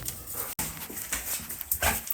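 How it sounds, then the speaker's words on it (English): Several dogs are outside before feeding, barking, yipping and whimpering in a busy overlapping chorus at close range, with one sharp break in the middle. "Silly puppy dogs."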